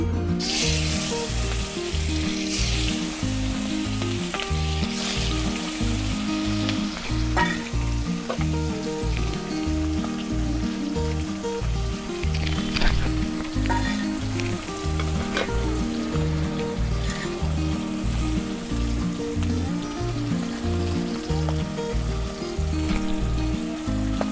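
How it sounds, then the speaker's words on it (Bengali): Rohu fish, rubbed with salt and turmeric, fries in hot oil with a steady, loud, continuous sizzle and crackle, broken by occasional stirring and scraping in the pan, with no talking. "আমার তেলটা গরম হয়ে গেছে তাহলে আমি মাছটা দিয়ে দেবো"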